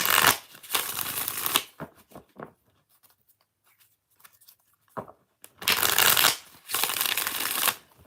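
Tarot cards riffle and flutter in two long, close shuffling bursts, separated by a pause filled with faint card taps and handling sounds.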